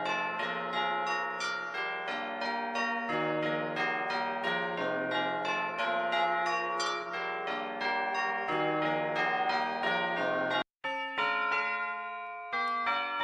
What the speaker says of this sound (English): Then we've got some church bells.